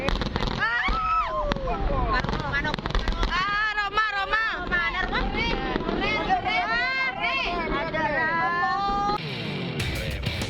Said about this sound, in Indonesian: Inilah video amatir saat sebuah balon udara meledak di Kecamatan Pengantenan, Kabupaten Pamekasan, Jawa Timur.